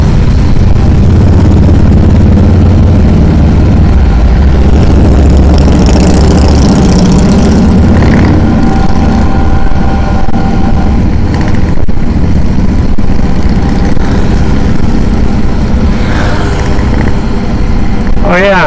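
A Harley-Davidson motorcycle idles loudly up close with a deep, uneven, loping rumble, while someone talks over the engine.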